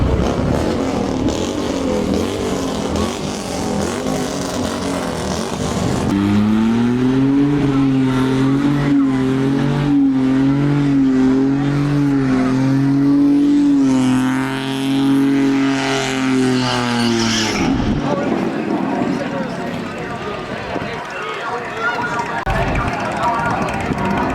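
A Dodge Charger Scat Pack 392 engine roars at high, wavering revs during a burnout while tires squeal steadily for several seconds, then drops back to a rumbling idle amid crowd noise at a car show.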